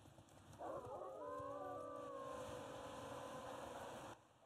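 A single drawn-out dog howl in a video game, rising and then holding steady for about three and a half seconds, clear and alone over a faint background.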